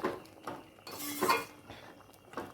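A metal pot of masoor lentils being stirred and covered with a lid, with several light clinks and scrapes of metal on metal, quiet and close, with no talking.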